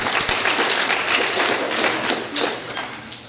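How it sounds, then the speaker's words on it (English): Audience applause for junior division student speakers at a school district MLK program, a sustained bright round of clapping that holds steady then eases slightly toward the end. "Let's give all the speakers from the junior division a round of applause"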